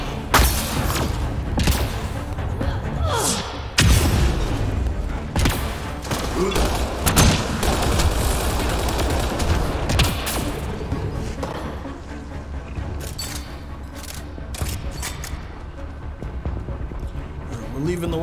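Firefight in the video game Mass Effect Andromeda, with repeated bursts of gunfire, thuds and booms cracking close and loud over about eighteen seconds while voices talk through the fighting.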